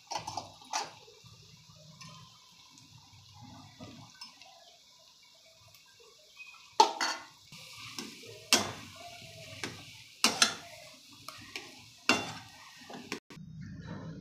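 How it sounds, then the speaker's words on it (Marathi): Boiled potato being mixed with masala in a pan for batata vada filling, heard as quiet, sparse taps and scrapes of a spoon against the pan that grow more frequent toward the end, over faint background noise. "मसाला आणि बटाटा आपण आता मिक्स करून घेणार आहोत।"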